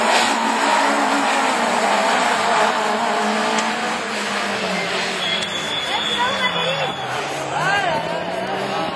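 A Super 1600 rallycross car at a Châteauroux rallycross event, its engine catching and revving hard in loud, rising and falling bursts, with a commentator talking continuously over it.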